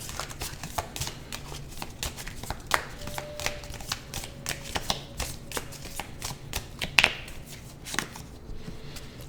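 A deck of oracle cards shuffled by hand in a quiet room, with repeated soft riffling and snapping card sounds at an uneven rhythm, close and moderately loud, with no speech.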